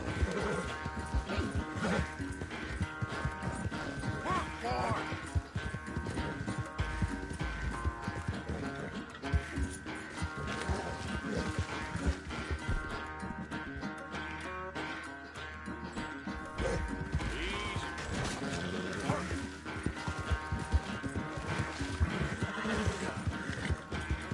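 Horse hooves clip-clopping in Red Dead Redemption 2 during a race, a steady galloping rhythm that runs throughout, blended with dense game music and ambience.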